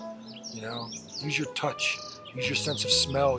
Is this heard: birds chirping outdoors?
yes